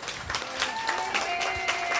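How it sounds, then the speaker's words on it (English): Wedding guests applaud at a Hindu wedding ceremony in Trinidad and Tobago, a steady, dense wash of clapping lasting the whole moment, with a faint musical tone running underneath. "Give them a round of applause."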